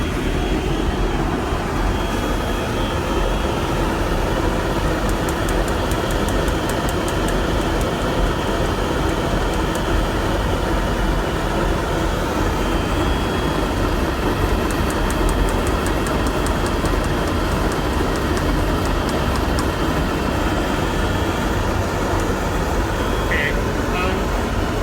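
Gas burners fire a reduction kiln with a steady, loud, roaring rush that stays constant from start to finish, close by, with faint ticking far in the background.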